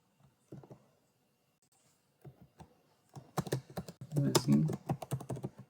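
Code is typed on a computer keyboard in brief, close clicking bursts that grow denser toward the end, with someone speaking quietly in between.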